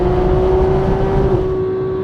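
A Porsche 911 GT3 of the 991 generation accelerates hard on the German Autobahn, its engine holding a loud, steady, high-pitched wail that climbs smoothly with little break, heard close and alone.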